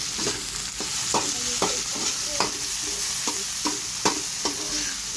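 Tomatoes frying in a pan for ginataang tilapia with mustasa, a steady sizzle broken by a run of sharp spoon-against-pan scrapes and clacks as they are stirred, close and fairly loud, with no talking.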